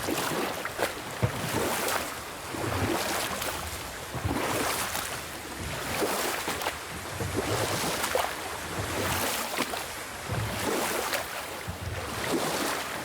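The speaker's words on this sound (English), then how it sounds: "Keep rowing towards the statues of the oarsmen, then thread past between them." A boat rowed across open water in God of War, with steady oar strokes surging and washing through the water about every two seconds over a constant wet hiss, and no voices.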